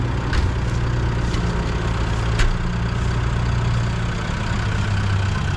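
A brand new Cat D3 dozer engine running while driven, a heavy steady low rumble close by with a few brief clanks and knocks on top, no talking.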